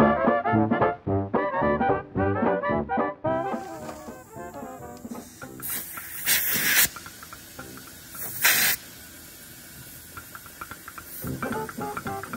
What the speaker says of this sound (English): put some air in that tire